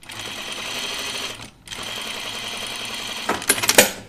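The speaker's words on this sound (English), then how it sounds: "So I just run stitch right along the seam line between the notches there." A sewing machine runs an ease stitch along the seam line of a shoulder cap, a steady fast mechanical whir with a brief pause, then clicks and clatter as it stops.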